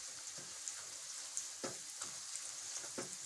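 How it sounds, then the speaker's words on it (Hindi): Onions fry and brown in a pan with a soft, steady sizzle, broken by a few scraping stirs of a utensil at close range and no voices. "प्याज को हल्का सा ब्राउन करेंगे"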